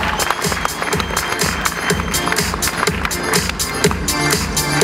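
Audience applauding at a fitness bikini contest in Cheboksary, sustained dense clapping from a crowd, loud and steady, with a voice over it.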